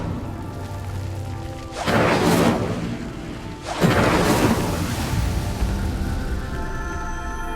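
The Incendio fire spell is cast twice in Hogwarts Legacy, each a loud whooshing burst of flame that swells and slowly decays. The pair arrives about two seconds apart over a steady ambient bed.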